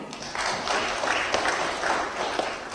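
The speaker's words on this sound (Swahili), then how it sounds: "Huyu anakuja, tumpigie makofi." Delegates at a public procurement conference in a large hall applaud as a road agency representative arrives, a steady swell of many hands clapping with a few scattered voices.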